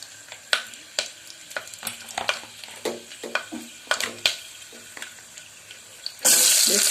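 Whole spices and oil crackling in a pan as chopped onions go in, giving irregular sharp clinks and stirring taps over a low sizzle, ending in a sudden loud burst of hissing.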